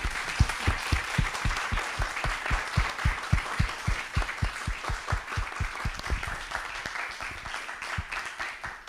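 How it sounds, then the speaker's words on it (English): A small audience gives warm applause at the end of a talk on art, technology and activism, a brisk run of dense, steady clapping that slowly thins and softens. "I would like to end up with a beautiful, ethical, aesthetical moment, which is a warm applause to both Joanie and Peter"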